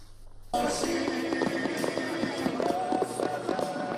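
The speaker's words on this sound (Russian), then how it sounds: "Грандиозный салют и гала-концерт в центре города." A fireworks display over a city centre in Kazakhstan crackles and pops in a dense, continuous barrage after a brief quiet start, distant bursts overlapping with music-like tones.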